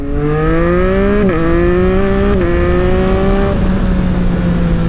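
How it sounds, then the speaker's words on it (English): A 2022 Yamaha XSR900 motorcycle downshifting toward first gear while braking, its loud engine note stepping down in pitch with brief blips at each shift, close and continuous, with wind noise and no speech. "on the brakes, down one gear, down another gear. How about first gear? Down into first."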